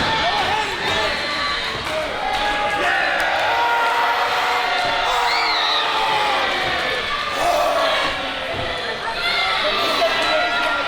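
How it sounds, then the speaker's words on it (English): A dense, roaring crowd at a wrestling show cheers and shouts continuously, loud and close, with commentators talking over the noise. "Listen to this crowd, my goodness."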